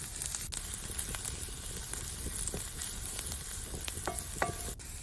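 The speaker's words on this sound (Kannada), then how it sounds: "ಸ್ವಲ್ಪ ಫ್ರೈ ಆದಮೇಲೆ ಸ್ವಲ್ಪ ಕರಿಬೇವಿನ ಸೊಪ್ಪು ಕೂಡ ಹಾಕುವ ತುಂಡು ಮಾಡಿ ಹಾಕಿದ್ದು ಇನ್ನೂ ಸ್ವಲ್ಪ ಕೆಂಪಗೆ ಆಗಬೇಕು ಈರುಳ್ಳಿ" Onions and curry leaves fry in oil in a pan, a soft but steady crackling sizzle with scattered pops and occasional light scraping of a spoon, heard close with no speech.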